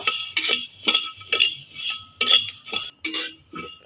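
Coriander seeds are stirred and fried in a pan with rice, heard as repeated close clinks and scrapes from the utensil, each in a separate burst, with short pauses between them and no speech.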